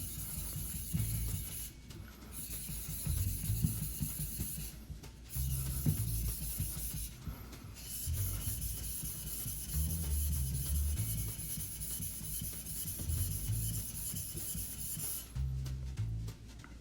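A knife is pushed with heavy pressure along a whetstone to raise a burr, making steady close rasping strokes in a continuous repeated rhythm with brief pauses between passes.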